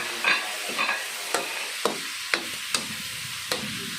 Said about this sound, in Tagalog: lagyan natin guys yung ating pusit